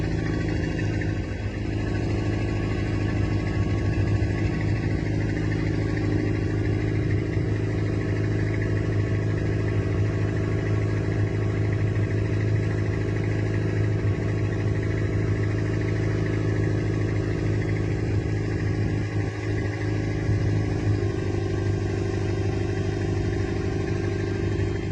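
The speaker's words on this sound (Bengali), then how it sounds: "আমাদের ট্রলার এগিয়ে চলেছে সামনের দিকে" A fishing trawler's engine drones in a steady, heavy rumble with faint mechanical clatter as the boat moves ahead toward Kakdwip fishing harbour, close and unbroken for about twenty-five seconds without talk.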